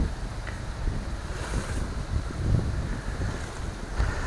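Steady wind buffeting the microphone outdoors in a churchyard, a continuous low rumble with gusty swells, fairly loud throughout and no voices.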